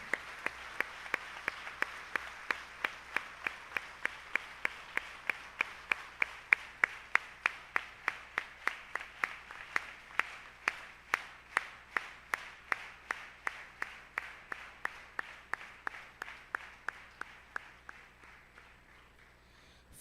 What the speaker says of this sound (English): I request the entire house to join me again in giving a loud round of applause to Dr. Umamaheswaran